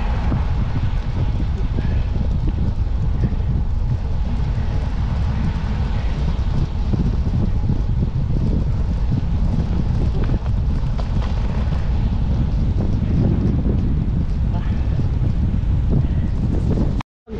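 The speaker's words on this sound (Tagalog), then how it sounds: "Ang lakas ng hangin" Strong wind roars and buffets the microphone continuously at Shifen waterfall, a heavy low rumble that cuts off abruptly at the end.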